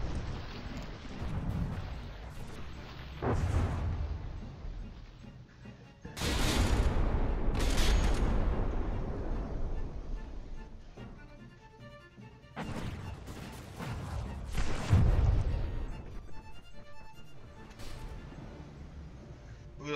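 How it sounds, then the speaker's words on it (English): Artillery shells fire in the From the Depths naval combat game, with several heavy booming blasts and crashing impacts in bursts, rumbling loud and then fading between volleys. "Those shells are going right for that turret."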